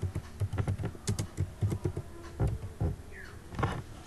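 Fingers tap steadily on a computer keyboard while text is edited in video software, a close run of irregular clicky keystrokes with a few brief pauses and no speech.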